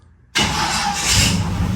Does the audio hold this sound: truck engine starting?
yes